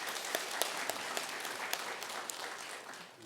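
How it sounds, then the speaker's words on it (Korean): A church congregation at a Sunday service claps for the choir, a dense roomful of hands with a few sharper individual claps standing out, sustained at an even level before easing off slightly at the end. "우리 찬양대 위에서 또 하나님께 우리 영광의 박수 올려드릴까요?"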